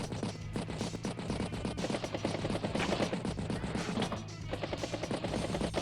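Artillery pieces firing on a medium tank in the strategy game Advance Wars, a rapid, dense burst of loud game explosions and gunfire effects that continues steadily throughout.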